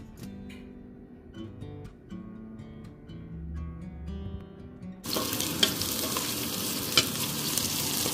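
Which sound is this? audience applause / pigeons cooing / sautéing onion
sautéing onion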